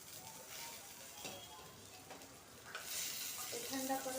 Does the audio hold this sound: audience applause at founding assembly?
no